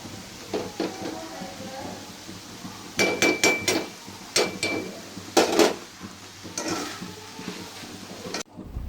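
Tomato curry being stirred in a pot, heard as scattered metallic scrapes and clinks of a spoon against the vessel in irregular bursts, fairly close, over a quiet kitchen background.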